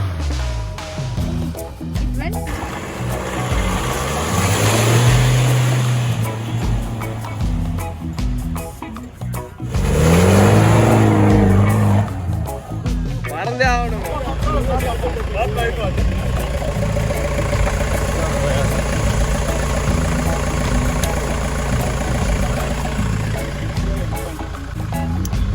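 Several 4x4 jeeps gathered for an off-road day in a riverbed in Chennai, engines idling and revving in steady low rumbles with two louder surges, while people talk throughout.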